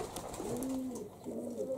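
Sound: pigeon cooing in a dovecote

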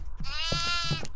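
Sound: goats bleating in a video game

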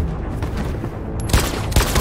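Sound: gunfire in the video game Detroit: Become Human

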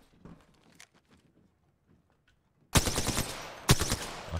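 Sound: gunfire from the video game Apex Legends

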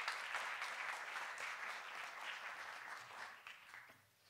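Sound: audience applause

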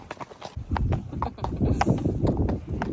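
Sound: horse hooves clip-clopping while riding around a farm

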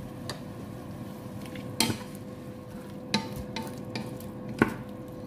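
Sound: stirring caponata vegetables with olives and water in pan

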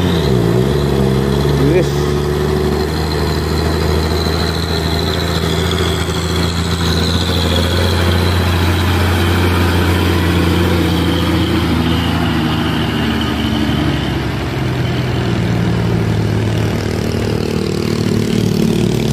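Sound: Fuso truck engine

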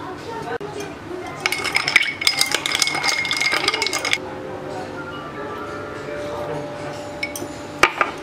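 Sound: ice cube dropped into a drink

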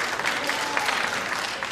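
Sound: studio audience applause on the Tonight Show

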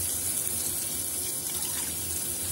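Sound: pouring coconut milk into rice pot

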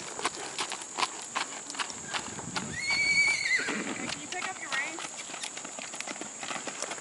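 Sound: Appaloosa mare horse

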